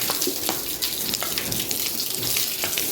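A hose sprays water steadily onto cows during cleaning of a cowshed, a continuous broadband hiss and splatter that stays loud and even throughout, with no talking.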